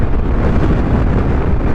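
Steady, loud wind roar buffets the microphone while riding a Yamaha Tricity 300 three-wheeled scooter, a continuous broadband rush with no breaks and no voices.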